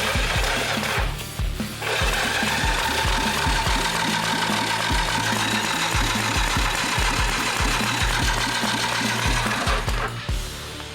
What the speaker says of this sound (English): we'll hot wire the starter and see if we can get this sucker to turn over without complaining too much